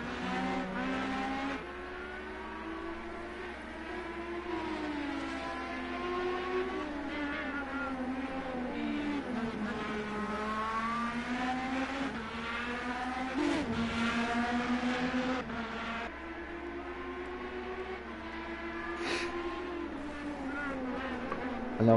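IndyCar race cars from a video game racing, several engine notes whining and rising and falling in pitch as they pass and shift through corners, a continuous layered drone with no talk.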